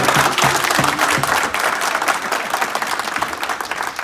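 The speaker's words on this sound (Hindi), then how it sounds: "तालियां कमजोर है भाई अभी।" Sustained audience applause, many hands clapping steadily and moderately loud throughout, with no one speaking.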